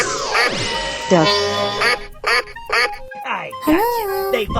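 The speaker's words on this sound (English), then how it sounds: "Duck." A cartoon duck quacks in a rapid run of short, nasal, tonal squawks among sliding electronic tones and jingly effects, loud and close.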